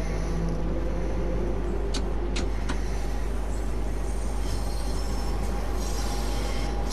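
A train in the Train Sim World 2 game runs on London track toward Elephant and Castle, giving a constant loud low rumble with brief sharp metallic clicks over the wheels, and no voices.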